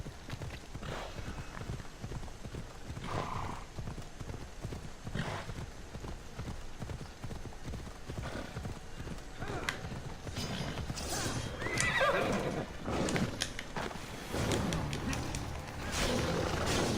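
Galloping horse in Assassin's Creed Odyssey, with steady rapid hoofbeats running throughout and a loud neigh or whinny rising near the end, heard in the game's outdoor world.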